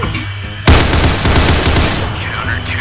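Counter Blox video game gunfire in competitive mode: a sudden loud burst erupts and continues as rapid automatic shots with booming echoes, close and dominant, with faint game sounds underneath.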